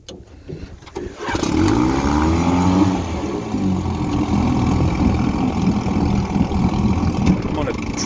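A 1959 Evinrude Golden Jubilee Sportwin 10 HP outboard motor starts after a second of quiet, then runs steadily on a pond with a droning, slightly wavering tone, loud and close throughout.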